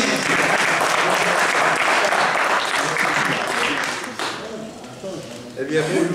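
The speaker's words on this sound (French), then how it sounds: "On applaudit la Fordinier." Audience applause for a performer at a Couzeix 2025 event: loud, dense clapping fills the room, then thins and fades toward the end, with a brief renewed burst near the close.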